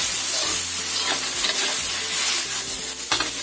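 Onion and garlic stir-fried in a pan, a steady close sizzle broken by regular scraping strokes of the spatula, with no voices over it.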